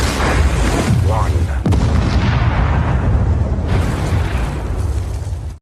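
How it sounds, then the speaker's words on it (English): A bomb explosion in the film Fast X, a loud booming blast with rumbling debris and a second burst, heavy and close, filling the whole moment. "Because of the bomb explosion,"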